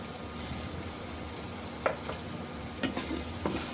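Small chopped vegetables frying in a pan with salt and turmeric, a continuous sizzle with a few brief scraping stirs.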